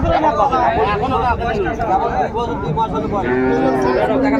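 Dairy cows and calves lowing at a busy village cattle market in Raniganj, Dinajpur, drawn-out moos mixed into a constant crowd babble, with people talking nearby.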